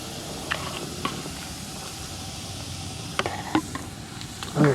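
Chicken liver and eggs frying in a pan while traveling, a soft continuous sizzle with a few light clicks and scrapes of stirring near the end.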